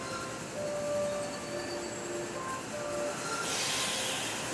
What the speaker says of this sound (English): From outside came the sounds of hissing steam and squeaking metal.